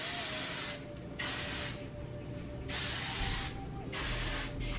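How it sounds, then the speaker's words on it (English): Anti-humidity hair spray hisses from an aerosol can in several bursts of about a second each, with short pauses between, close and fairly loud. "Then I'm just gonna go in with this Orbe anti-humidity spray."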